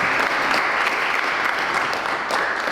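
Dense audience applause at a Plainfield community event, continuous and even, a crowd clapping steadily with no talking.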